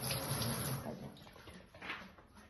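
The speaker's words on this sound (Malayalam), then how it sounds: "ഒരു കപ്പ് വെള്ളം ഒഴിക്കണം" A cup of water poured into a cooking pot of washed yam and rock salt in a Kerala home kitchen, heard as a steady, close splashing rush that softens and swells again toward the end.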